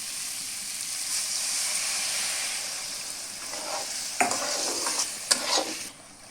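Hot water is poured into a pot of sizzling pigeon meat curry, sending up a steady hiss of frying. Several louder bursts of bubbling and spattering follow near the end, and the sound settles at the close. It is heard alone, close up, with no talk.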